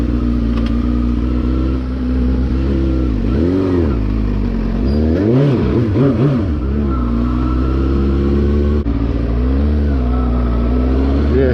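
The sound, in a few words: motorcycle engine running during a test ride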